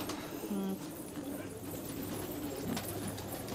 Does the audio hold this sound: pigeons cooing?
yes